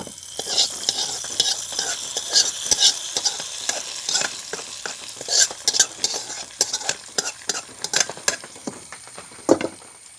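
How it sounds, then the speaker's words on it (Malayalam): Onion and curry leaves crackle and sizzle in hot oil for a tempering, then it is poured into a pumpkin and bean curry, with sharp spattering pops and scraping against the pan, close and steady. "മൂത്ത് വന്നിട്ടാ നമുക്ക് ഈ കറിയിലേക്കാണ്ട് ഒഴിച്ചു കൊടുക്കാം."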